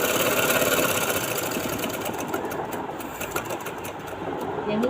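A sewing machine stitches the hem of a kameez, running continuously with a fast, rattling mechanical hum close by throughout.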